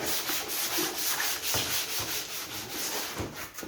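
Coarse 100-grit sandpaper rubbed back and forth, with steady, close rasping strokes repeating in a quick rhythm throughout and no voices.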